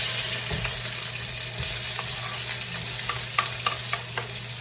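Vegetables and garlic for dirty rice fry in a hot pan, giving a steady close sizzle broken by occasional clicks and scrapes of stirring.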